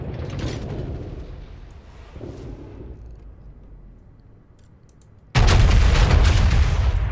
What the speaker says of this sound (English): Alright, shots out at the carrier.